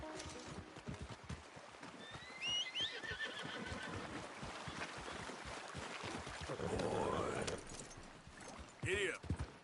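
A horse ridden in Red Dead Redemption 2 gives a loud whinny and snorts over clip-clop hoofbeats, with a short spoken command and game ambience around it.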